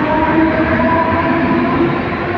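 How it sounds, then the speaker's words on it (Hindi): A Mumbai local train at Vashi railway station gives a steady, loud rumble with a faint tonal whine running under it, and no voices are heard. "Bombay lifeline local."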